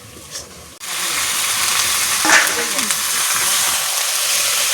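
Meat and ginger drop into a pan of cooked spice paste, a sudden loud sizzle that then holds as a steady, close frying hiss with some stirring.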